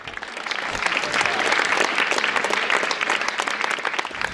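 Students and teachers applaud together in a dense, steady wash of clapping that holds evenly loud throughout, with a faint crowd murmur underneath.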